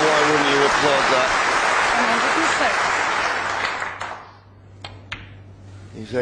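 Snooker audience applauding Ronnie O'Sullivan's century break against Stephen Hendry in 2008: loud dense clapping that thins and fades after a few seconds, followed by scattered individual claps, with a commentator's voice heard briefly.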